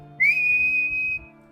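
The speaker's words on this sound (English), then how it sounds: "So what I did is I made a whistling from my mouth," A single sustained whistle from a person's mouth, clear and steady in pitch, holding for about a second over a quiet background hum.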